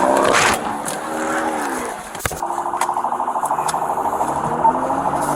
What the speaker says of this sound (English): Vehicle took off.